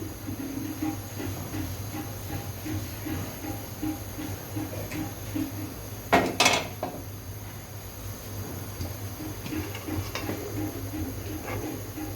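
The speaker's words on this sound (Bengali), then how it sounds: "এখন হচ্ছে আমি এটাকে খুব ভালো করে ঢাকনা দিয়ে ঢেকে দিচ্ছি" A lid goes onto a pot of pulao with a brief double clank midway, standing out against a low steady kitchen hum and faint ticking.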